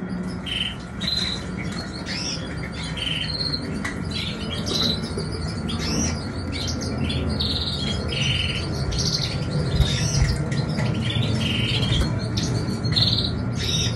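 A room full of canaries chirping and squawking at once, a dense continuous chatter of sharp calls and trills with a steady background hum throughout.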